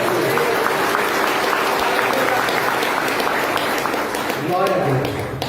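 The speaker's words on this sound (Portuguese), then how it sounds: "Quem pode dar uma salva de palmas para Jesus?" Church congregation applause during a sermon, a full, sustained roar of clapping from a large crowd that stays loud throughout, with voices rising through it near the end.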